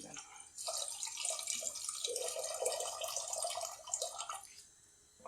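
Water poured from a cup into tamarind pulp in a pan on a high gas flame, a close, continuous splashing trickle lasting a few seconds before tapering off.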